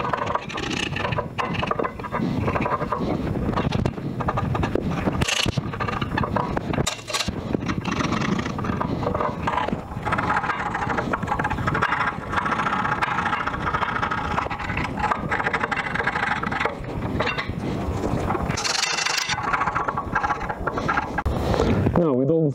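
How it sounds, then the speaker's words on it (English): Brushing and scrubbing on dusty rear brake parts of a Mercedes CLS during a brake pad change, a steady scratchy scraping that runs close and fairly loud for the whole stretch, with a few sharp knocks between strokes. "I will scrub all this dust and all these parts."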